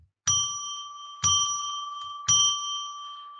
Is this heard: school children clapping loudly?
no